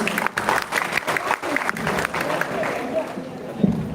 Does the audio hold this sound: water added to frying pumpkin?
no